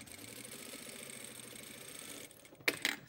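A sewing machine back tacking a pocket flap seam, a soft rapid mechanical whir with a steady stitching pulse that stops just before a couple of sharp clicks at the end, close and quiet.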